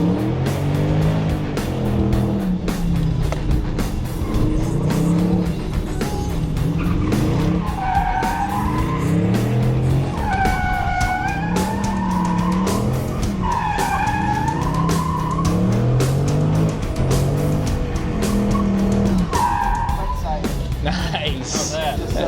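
A car drifts with loud, continuous tire squeal and a revving engine, the tone rising and falling across repeated slides, while people talk close by over the noise.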